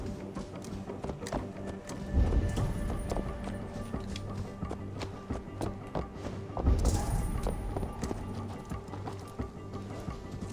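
Horse hooves clip-clopping in a steady rhythm as a horse is ridden in an Assassin's Creed video game, with occasional heavier thuds and a constant game background.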